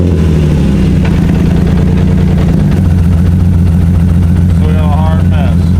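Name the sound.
car engine idling with a misfire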